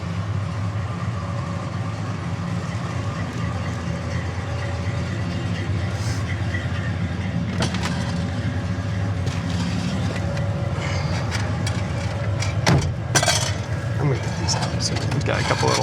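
A 1970 Chevrolet Monte Carlo drives down the road with a steady, loud engine and road rumble throughout, plus a few rattles and knocks from the cabin, and someone speaks briefly over it.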